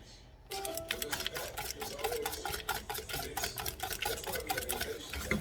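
Brown sugar being stirred in a pan for homemade caramel, a quick run of rapid scraping and clicking strokes close up, fairly quiet and steady after a brief silent start.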